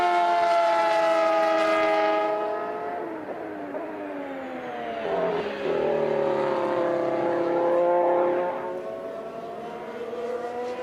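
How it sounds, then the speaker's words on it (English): Ferrari F1 cars, the SF70H and F60s, pass on track at Mugello with high-pitched engine wails that climb and fall through upshifts and downshifts, loud and close, then a second car sweeps by. "The sound is almost as intriguing as the car slows down as when it accelerates as well."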